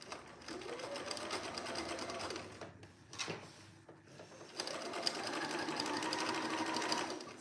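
A sewing machine stitches a seam on a vintage-style dress shirt in two quiet bursts of rapid mechanical whirring, separated by a short pause with a few soft clicks and handling noises.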